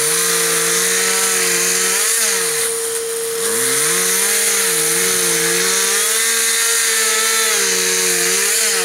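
A chainsaw runs steadily and loudly nearby during a bee relocation, its engine pitch wavering up and down as it cuts, with a brief dip in level partway through.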